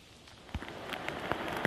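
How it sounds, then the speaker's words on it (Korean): Heavy rain falls at Incheon's Yeonan pier harbour as a soft steady patter, with a few louder nearby drops tapping on a surface. "이곳 인천 연안부두에도 하루 종일 비가 내리고 있습니다"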